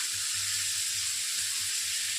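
Cumin, ginger and chili sizzle steadily in a hot pan while cooking a simple Bengali fish curry, a continuous quiet frying hiss with a faint low hum beneath and no voices.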